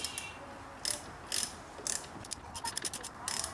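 An 11 mm socket ratchet clicks in short bursts while loosening a brake line bolt on a 1988 Pontiac Fiero caliper, close, crisp rapid pawl ticks separated by brief pauses.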